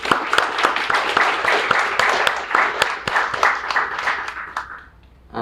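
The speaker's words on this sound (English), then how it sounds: "I think he deserves a round of applause." A room full of people at a Miami day traders meetup breaks into loud, dense applause with a few sharper individual claps, which tapers off to near silence at the close.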